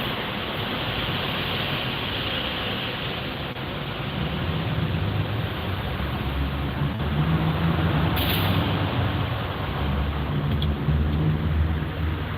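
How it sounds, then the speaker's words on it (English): Steady broadband road traffic rumble with passing cars and trucks, growing somewhat louder toward the end, continuous and fairly near with no speech. "seemed like the traffic got a little louder"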